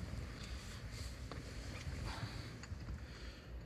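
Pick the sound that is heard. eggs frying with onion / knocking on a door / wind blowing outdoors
wind blowing outdoors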